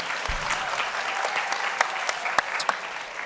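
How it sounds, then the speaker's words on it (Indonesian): A studio audience at an Indonesian TV talk show applauds, a moderate, steady patter of clapping hands with a few sharper claps standing out, lasting a few seconds. "tepuk tangan dulu buat Amanda, silakan."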